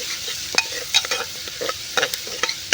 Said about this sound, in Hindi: प्याज को बढ़िया से हम गोल्डन ब्राउन करेंगे